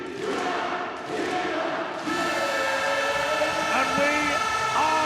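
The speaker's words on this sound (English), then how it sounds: "Listen to this crowd, counting down to the puck drop." A packed arena crowd at a 2019 World Para Ice Hockey Championships quarter-final roars steadily before the puck drop, a dense, loud wash of many voices that swells slightly after the second second and holds throughout.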